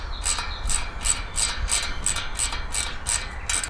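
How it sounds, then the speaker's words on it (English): Close, rapid ratcheting clicks at a steady rhythm, about eight in a row, as bolts are tightened on the brake disc of a new e-bike wheel, with no talking. "So I'm just going to pop this onto the new wheel now and we'll tighten up the bolts."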